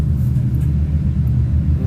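Off-road race truck running a qualifying lap at the High Desert 100 in Powell, Wyoming, a steady loud low engine rumble droning throughout without clear revving peaks.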